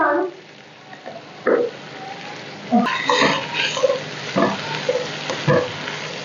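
Chopped bell pepper and carrot cooking in a pan, giving a soft continuous sizzle broken by several short scraping stirs, close by and moderately loud, with no voices.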